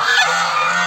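Geese honking loudly and continuously at close range, a harsh, sustained chorus of guarding calls filling the short stretch without pause.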